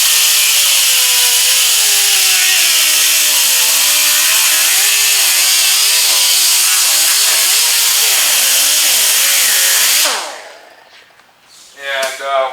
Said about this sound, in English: I'm gonna try to take my cutter, my grinder here, I'm gonna use the edge to cut it.